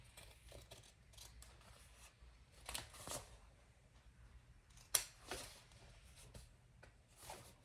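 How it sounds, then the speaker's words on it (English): Scissors snip through fabric trimmed for a crossbody bag, a few quiet, scattered crisp cuts with soft rustling between them, close and faint. "now I'm going to trim mine just a little"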